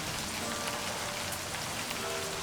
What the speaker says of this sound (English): Raindrops splatter on the paper, leaving small, wet stains.